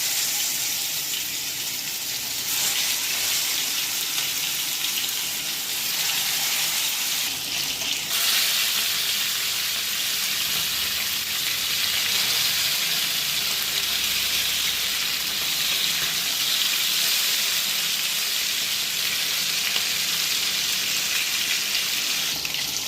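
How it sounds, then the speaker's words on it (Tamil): Fish frying in reused oil gives a steady, close hiss and crackle that stays at an even level throughout, with a few brief surges. "இப்போ மீனை ஒன்று ஒன்றா போட்டுக்கலாம்."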